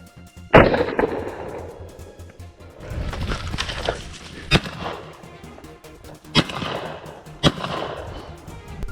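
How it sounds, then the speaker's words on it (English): Rifle shots during a wild boar hunt on a Texas farm, several sharp, loud cracks spaced irregularly across the stretch, each trailing into an outdoor echo, with rustling between them. "A gunshot tore through the silence once more."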